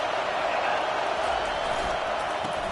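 A steady, dense roar from a large college football stadium crowd, loud and unbroken throughout with no single voice standing out.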